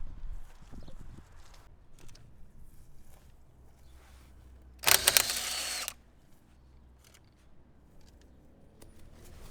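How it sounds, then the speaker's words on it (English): Power tool working on a Porsche wheel hub during removal, a single loud burst of about one second standing out over quiet workshop background. "We are now going to take this hub off."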